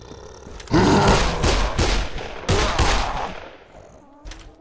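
Bursts of rapid gunfire in the video game Dead Island, loud and dense with a few separate shots, then a short gap and one final shot.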